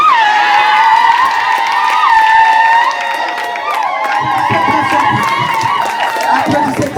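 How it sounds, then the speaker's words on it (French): Guests at a civil wedding cheer loudly and clap, a dense crowd roar with high whoops and shouts held for several seconds, with voices calling out over it. "Applaudissez très fort."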